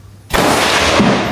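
Gunfire from a shooting range at the Cu Chi Tunnels, heard as a sudden loud broadband blast that rolls on as a sustained, echoing burst with a second hit near the end, with no talk over it.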